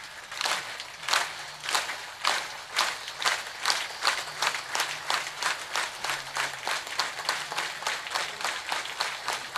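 A kirtan audience claps together in a steady, rhythmic beat, roughly two claps per second, a continuous run of sharp hand claps from a crowd without any talking.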